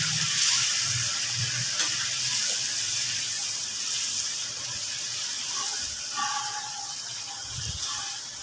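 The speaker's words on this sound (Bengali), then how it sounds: "ঝোলটা ফুটতে আরম্ভ করে দিয়েছে, আমি এখানে মাছগুলো দিয়ে দেব" Three pieces of fish go into bubbling curry gravy, bringing a steady close simmering hiss and sizzle with soft bubbling throughout.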